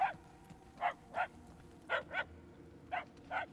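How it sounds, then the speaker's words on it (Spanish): Distant canine howls and yelps echo in the Guardians of the Galaxy game, six short bursts arriving in irregular pairs over a low, quiet ambient rumble. "Los aullidos se vuelven más fuertes. E insoportables."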